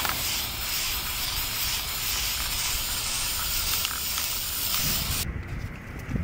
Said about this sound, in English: So we're gonna head outside and start spray painting our pumpkin.